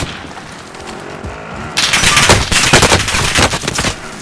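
Rapid automatic gunfire in the Call of Duty Warzone video game, loud sustained bursts after a quieter opening stretch, with no talk over it.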